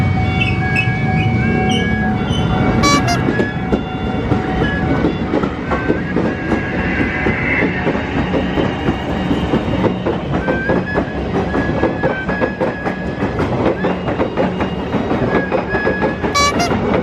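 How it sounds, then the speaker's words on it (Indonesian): KRL electric commuter train passing close by in Indonesia, a loud steady rumble with rhythmic clickety-clack of wheels over rail joints for the whole span, with brief horn or squeal tones near the start and end. "Ini teman-teman ada kereta lewat guys."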